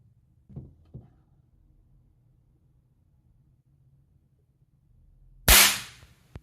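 A tiny miniature gun fires a single sharp, loud crack near the end, after a couple of faint clicks from earlier misfires; otherwise quiet with no talking.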